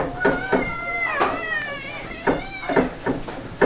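A kitchen cat meows repeatedly in short, close, clear calls with slight pitch bends, several in a row with brief gaps.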